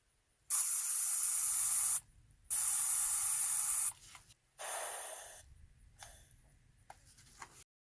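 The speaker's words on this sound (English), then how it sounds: "that was the pressure relief valve that releases the pressure inside the tank" Loud bursts of hissing air vent in several blasts from the pressure relief valve of a STIHL SG 11 handheld sprayer tank, the first two long and steady, then shorter, weakening releases trailing off.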